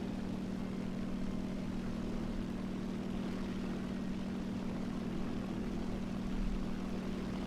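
A propeller plane engine in the video game War Thunder drones steadily, a constant humming tone over a rough rumble that stays even throughout without talk.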